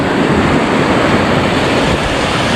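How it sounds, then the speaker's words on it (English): Loud, continuous roar of rushing water at the top of the Mossy Cave waterfall in Bryce Canyon, a dense unbroken wash of sound with no voices. "Here we are up at the top of the waterfall."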